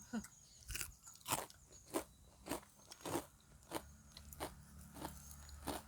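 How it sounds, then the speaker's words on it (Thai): Crispy fried banana fritters crunch with each bite, about a dozen sharp crackling chews in a steady rhythm, close and quiet, with no talking. "กรอบเนาะถ้ามันบางนิดนึงมันจะกรอบ กรอบนอกนุ่มในเลยนะคะพี่น้อง"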